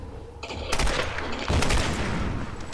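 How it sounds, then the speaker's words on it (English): Automatic weapon fire in Tomb Raider Definitive Edition, a dense rattling burst that starts abruptly, presses on with a second louder surge midway and carries on continuously to the end. "The machine gun's my weapon."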